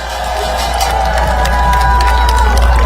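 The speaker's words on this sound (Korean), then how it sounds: "다시 한번 뜨거운 박수 부탁드리겠습니다" Crowd cheering and applauding at an outdoor election campaign rally in Gongju, a dense, steady roar of voices and clapping that carries on without pause and builds slightly, with amplified tones ringing through it.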